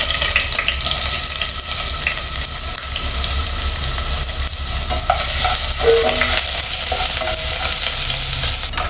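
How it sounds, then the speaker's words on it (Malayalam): Chopped garlic and ginger sizzle in reused frying oil in a pan, a dense continuous hiss with scattered small crackles and occasional stirring, close and loud without any talk. "ഇതിലേക്ക് നമുക്ക് വെളുത്തുള്ളി ഇഞ്ചി ചോപ്പ് ചെയ്തിട്ട് കൊടുക്കാം"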